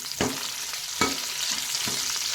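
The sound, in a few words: frying curry leaves and Byadgi chilli in oil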